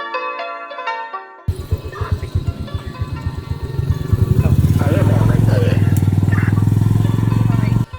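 A Cambodian remork rickshaw pulled by a motorcycle rides along with its engine chugging in a rapid pulsing rhythm that builds into a loud steady drone. Music plays briefly at the start before the engine takes over.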